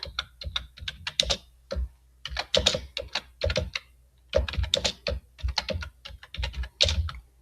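Quick bursts of typing on a computer keyboard, close key clatter in short rapid runs separated by brief pauses, with no voices.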